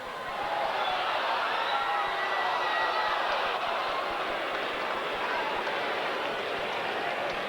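A small but vociferous baseball crowd at a 1994 Chicago versus New York National League ballpark game roars and cheers in a steady, loud wash that holds without a break from start to finish.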